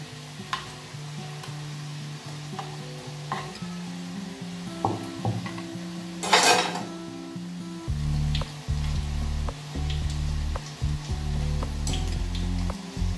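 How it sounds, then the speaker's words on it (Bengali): Kata nimki fries in hot oil in a kadai, a steady close sizzle and bubbling with occasional stirring clinks and scrapes, growing louder and denser partway through. "ভাজছে।"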